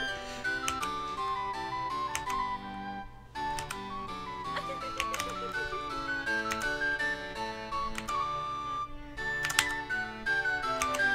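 Mechanical keyboard keys click lightly and irregularly while typing, sitting beneath louder melodic game music from Sid Meier's Pirates! (2004).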